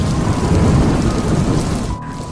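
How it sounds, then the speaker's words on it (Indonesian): Heavy rain pours in a dense, continuous roar, with deep thunder rumbling underneath. It is loud and steady throughout. "hujan turun dengan derasnya."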